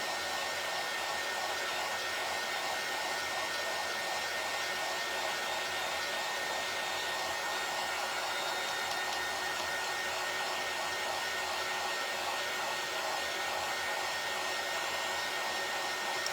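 A hair dryer blows continuously on a craft door hanger, a constant airy hiss and whir held at an even level throughout with no talk.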